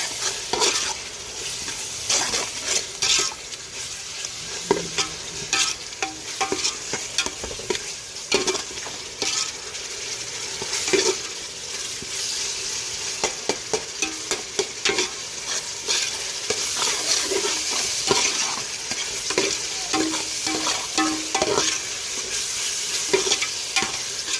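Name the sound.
masala with ginger-garlic and coconut paste frying in pan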